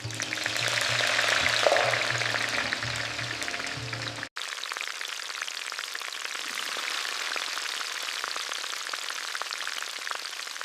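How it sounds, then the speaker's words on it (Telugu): Fried chicken sizzles steadily in hot oil, a dense crackling hiss that runs continuously and close by, with a brief clunk and a shift in tone partway through. "ఇప్పుడు ఫ్రైడ్ చికెన్ని కూడా కుక్ చేస్తా."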